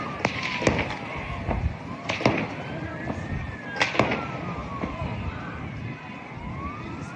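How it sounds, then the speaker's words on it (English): Several sharp, loud gunshots crack out at a public event amid crowd noise, spaced irregularly, with a siren wailing and sliding in the background. "That's what a gunshot sounds like."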